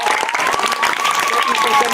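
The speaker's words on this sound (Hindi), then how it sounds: "ताली बजा दा, ताली बजा दा।" A village crowd claps for a travelling madari street showman. Brisk, close applause runs for two seconds with voices talking over it and a thin, wavering whistle-like tone above.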